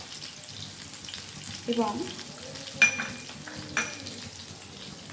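Chili powder stirred into hot, sizzling oil while cooking parshe fish curry, a soft steady fry with a few scraping stir strokes and clinks; a brief word is spoken.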